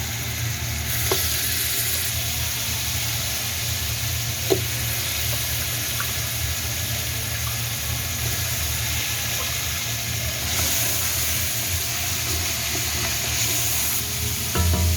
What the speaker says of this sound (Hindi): बीफ की बोटियों की हमने मसाले के साथ 2 से 3 मिनट बुनाई की है